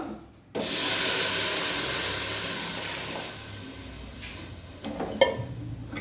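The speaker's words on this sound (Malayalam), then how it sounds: "അപ്പോൾ നമുക്കിതിലേക്ക് രണ്ടാം പാൽ ഒഴിച്ചു കൊടുക്കാം." Thin second coconut milk hits a hot pan of simmering vermicelli payasam with a sudden loud hissing rush that slowly fades, followed by a few clinks from the pot near the end.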